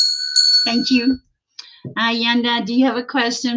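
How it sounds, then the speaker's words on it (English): Bright ringing of a small hand bell to clear energy, a clear sustained tone at the start, then a person talking. "I'm gonna ring my bell."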